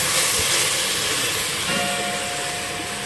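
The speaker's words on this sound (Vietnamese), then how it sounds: "Xào lên cho nó ngấm nước." Bamboo shoots seasoned with salt and MSG stir-fry in a hot pan, a loud continuous sizzling hiss that holds steady throughout without any talk.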